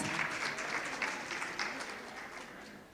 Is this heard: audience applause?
yes